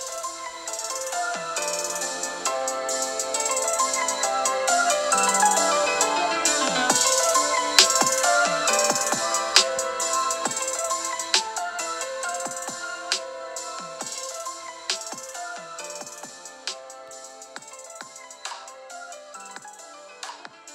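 iPad Mini 5 built-in speakers play bright, melodic music steadily at moderate volume for about twenty seconds, with dense tonal layers and crisp plucked accents and no voices.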